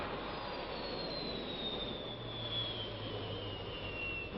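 Dassault Mirage III jet aircraft descending and decelerating, heard from the cockpit: a constant, loud broadband engine roar with a slowly falling whine above it and a low droning tone joining partway through.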